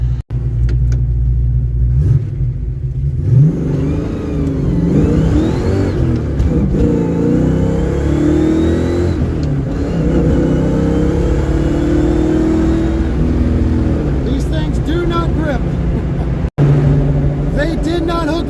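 A Ford Mustang on cold drag radial tires with Weld Drag Lite wheels revs hard and spins its rear tires on a cool day in Texas, a loud rising engine roar with rumble, a person speaking over parts of it.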